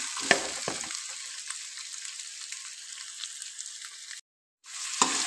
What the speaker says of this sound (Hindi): गोश्त को हमने अच्छी तरह से फ्राई कर लेना है, अदरक लहसुन जो है इसमें।